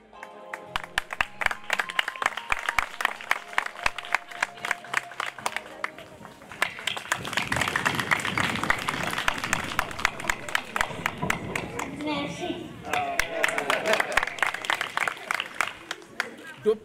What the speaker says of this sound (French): Puis s'ensuit la remise de dons, instant solennel sous des tonnerres d'applaudissements.